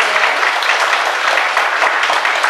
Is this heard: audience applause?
yes